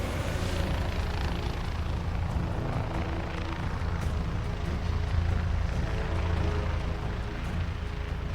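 A steady, loud helicopter drone with rotor chop at Lukla in the Nepal Himalaya, continuous and unbroken throughout, with no voices.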